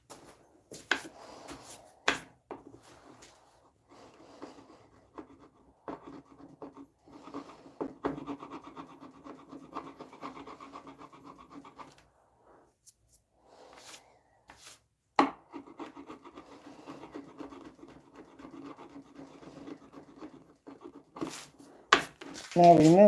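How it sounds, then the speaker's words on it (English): Tapered sanding and scraping of a wooden cabinet door: soft, repetitive rubbing strokes come in bursts with short pauses between them, interrupted by occasional sharp knocks and taps, and a voice speaks briefly near the end. "do this tapered sanding that I'm doing and scraping so that when I paint it, it just blends in"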